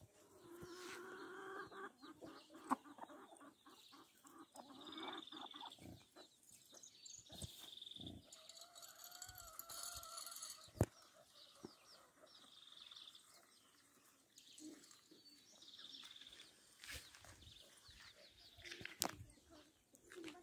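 Farmyard poultry in the Chaco countryside, chickens alongside pigs and chicks, cluck and chatter in scattered bursts over about twenty seconds, with sharp knocks and occasional louder calls nearby and quieter ones farther off.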